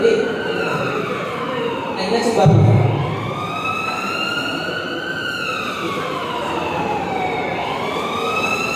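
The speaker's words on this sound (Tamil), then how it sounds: "ஆம்புலன்ஸ் வந்து" An ambulance siren wails with a rising and falling tone during an accident scene in a Tamil college skit, sounding fairly loud and steady throughout, while people talk over it.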